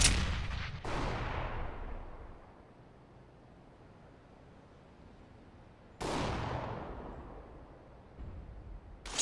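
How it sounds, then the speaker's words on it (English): A grenade blast in the game CS:GO, a loud sharp explosion with a long decaying rumble, followed by a second explosion about six seconds later. "Throwing a grenade."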